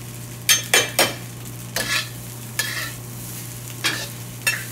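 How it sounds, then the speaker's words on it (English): Fried rice is pushed and scraped around a pan with paddles, giving several distinct scraping strokes spaced unevenly over a low sizzle and steady background hum, with no voices. "So keep shoveling that around a little bit."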